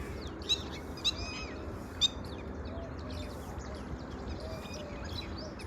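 Birds at a temple chirp in quick, high calls, with three sharper tweets standing out early and softer twittering scattered through a constant background hum, fairly faint and unaccompanied by speech.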